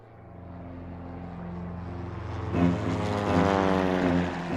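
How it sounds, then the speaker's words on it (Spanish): A squadron of thirty navy and air force propeller aircraft flies over, its droning engine hum swelling louder as the planes approach, with steady harmonic tones and no voices. "una escuadra de 30 aviones de la Marina de Guerra y la Aeronáutica bombardea la Casa Rosada"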